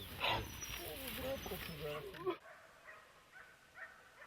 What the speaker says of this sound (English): The forest inhabitants have been alerted by the dogs barking for the hunter's presence.